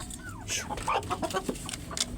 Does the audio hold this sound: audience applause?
no